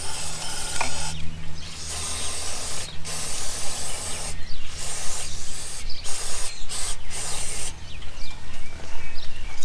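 A loud, steady aerosol cleaner spray hissing in repeated bursts with short pauses, close up, onto the carburetor of a 1968 Evinrude 65hp V4 outboard motor, alongside faint mechanical clicks.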